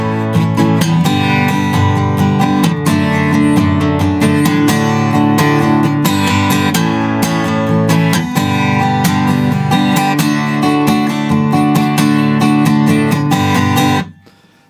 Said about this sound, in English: It then goes on to the next line, which is a chorus,